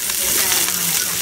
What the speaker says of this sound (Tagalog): magpainit muna tayo ng mantika at igisa na natin ang ating bawang